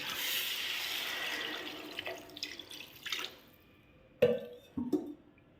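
Water pours into a cooking pot of spiced small-fish stew, a fairly quiet gushing stream that fades out, followed by a few sharp clinks and knocks.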